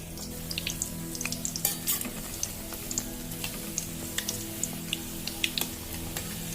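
Luchi frying in hot oil in a home kitchen, a soft continuous sizzle dotted with sharp pops and crackles, fairly quiet and without speech.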